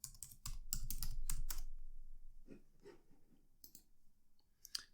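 Quick bursts of key clicks on a computer keyboard while someone types an answer into a networking exercise, a dense flurry at first and then sparser, scattered taps, close and fairly quiet.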